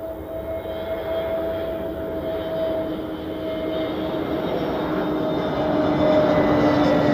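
An airplane departs from a runway at Zurich Airport, a broad continuous engine roar heard from a distance that slowly builds in loudness, with a faint steady whine on top.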